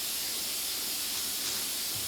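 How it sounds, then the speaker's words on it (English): A steady, close hiss of shellac being sprayed from a can, continuous and unbroken throughout. "we are spraying some shellac"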